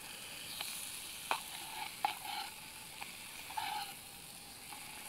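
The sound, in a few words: bacon sizzling in a small camping pan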